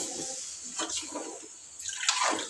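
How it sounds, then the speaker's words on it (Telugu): Water is poured into a pot of brinjals for a curry, a soft splashing and gurgling stream in two short pours, close and fairly quiet. "వంకాయలు మునిగేంత పోసుకోవాలన్నమాట నీళ్ళు."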